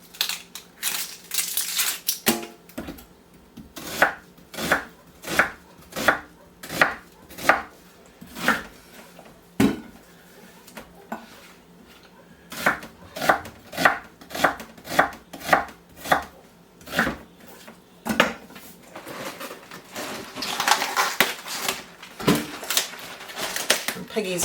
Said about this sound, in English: Slice onion.